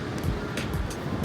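Surf washing against a rocky seashore, a steady broadband rush with a few brief swells, heard alone with no talking.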